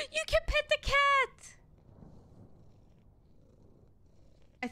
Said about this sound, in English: I think I'm petting the cat.